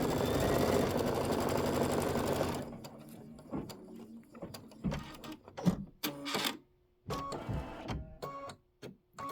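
A computerized machine doing appliqué on a quilt stitches a placement line. A steady mechanical whir comes first, then gives way to irregular clicks and short buzzing bursts, with no talking.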